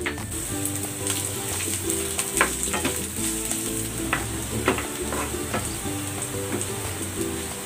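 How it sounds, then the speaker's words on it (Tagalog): Garlic and onion sautéing in hot cooking oil in a pan, a steady loud close sizzle with crackling pops and occasional stirring, no voices. "Gisa na natin tong bawang. Lagay na natin itong sibuyas."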